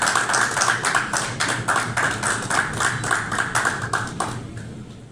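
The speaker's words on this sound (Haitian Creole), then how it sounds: "Je vous demande encore de les applaudir." Sustained applause from a crowd at the official launch of the G.I.R.E.S initiative group, dense steady clapping lasting several seconds before thinning out toward the end.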